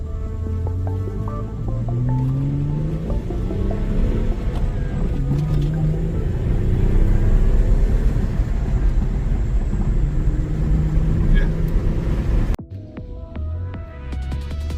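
Engine of a Hyundai Tiburon SE V6 with a misfire, droning loud and near, its pitch climbing and falling under acceleration, then cutting abruptly to a quieter idle near the end.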